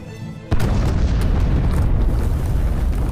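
A loud boom as an alchemist's cave laboratory is blown up in a film, striking suddenly after a quiet moment and then rolling on as a heavy, sustained rumble with no voices.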